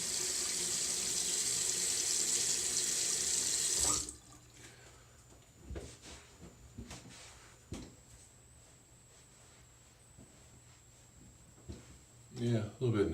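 Tap water runs steadily into a sink for a few seconds during a rinse after a shave, then shuts off, leaving faint clatter and small splashes.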